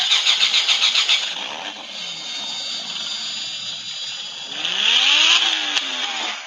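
A toy car's electronic engine effect, triggered by a button, plays a buzzy, loud revving loop that rises and dips, then surges again near the end, close up with no talking.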